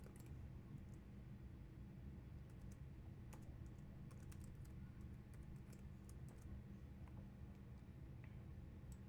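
A password being typed on a computer keyboard during a Windows domain controller setup, faint irregular key clicks tapping along over a low steady background hum, close and quiet, no talk.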